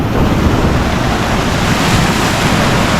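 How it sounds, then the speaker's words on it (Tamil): Ocean waves surge and crash at the northern tip of Borneo, a dense, continuous roar of surf mixed with wind buffeting the microphone, loud and close, with no voices. "இங்கே ஓரளவுக்கு நல்லா அலை அடிக்குதுங்க"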